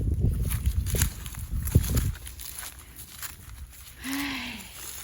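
Cattle in a rice field: a single short, low moo comes near the end, after rustling, shuffling footsteps and scattered movement noises close by.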